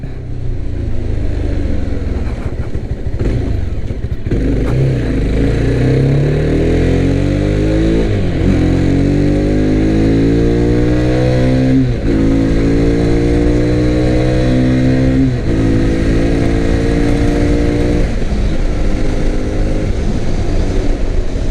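A Mahindra Mojo 300 ABS BS6 motorcycle cruising in top gear of its six-speed gearbox, its engine droning steadily and loud throughout with rising and falling revs under heavy wind rush, no talk.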